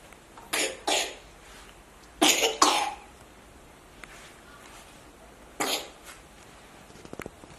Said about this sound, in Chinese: 哎呀，还是咳嗽呀！